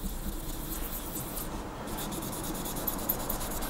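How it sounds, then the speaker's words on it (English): Quiet, steady rubbing of a sanding stick on a clear plastic aircraft model canopy, a soft scratchy hiss with faint squeaky chirps toward the end. "And you might start to hear a bit of a squeak."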